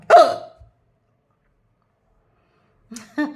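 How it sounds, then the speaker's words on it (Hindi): A single sharp hiccup rings out at the start, then a long silence before a second, softer hiccup-like catch near the end, close to the microphone with no other sound around it. "हिचकी आ रही है"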